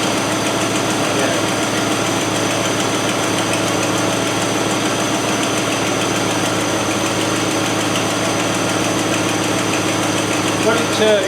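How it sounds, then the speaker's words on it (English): A big V8 engine idles steadily with a deep, lumpy rumble and faint mechanical knocking, close and continuous throughout. "But it certainly runs nice, this engine."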